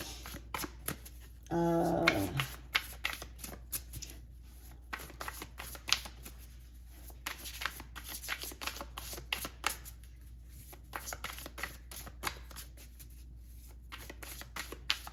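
Astrological cards are shuffled by hand, a quick riffling burst followed by a long run of soft, irregular taps and slides of cards being handled and laid out, quiet and close.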